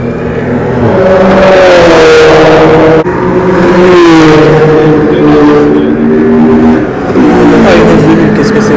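Race cars roar past at close range beside the Spa-Francorchamps circuit track, engines screaming and shifting pitch as they accelerate by one after another, loud and continuous with no pauses.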